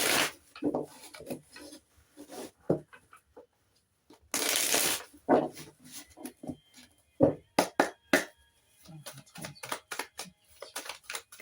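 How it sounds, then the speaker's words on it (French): Tarot cards are shuffled and laid out on a surface, with crisp, irregular riffling and rustling bursts followed by a louder continuous shuffle and several sharp card snaps, heard close and alone without talk. "on va aller mettre des cartes sous chacune des cartes"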